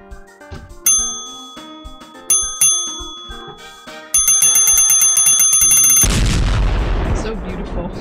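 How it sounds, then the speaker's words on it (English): Service bell explosion effect from a live game stream: several bright bell dings ring out in a tinkling sequence, growing busier, then a loud booming explosion with noisy rumble takes over and fades. "I'm gonna set off the service bell explosion one"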